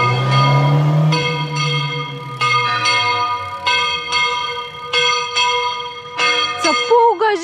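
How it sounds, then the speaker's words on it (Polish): Church bells in a Spanish town ring loud and close, beginning with a deep resonant stroke and followed by a run of brighter, irregularly spaced strikes that overlap and ring on between hits. "O Boże, ale te dzwony."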